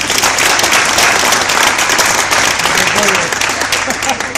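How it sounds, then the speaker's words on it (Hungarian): A crowd at an outdoor protest in Budapest applauds, a loud, dense, continuous wash of clapping with a background murmur of voices. "egy tapsot megérdemelnek"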